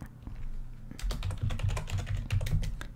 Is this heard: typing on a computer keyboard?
yes